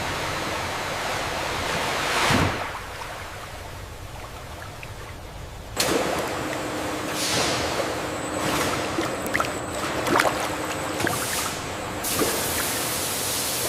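Fresh watermelons tipped by a hydraulic tipper into purified washing water in a watermelon factory: a continuous rushing wash of water with sudden splashy surges and intermittent knocks, steady and fairly loud, no voices.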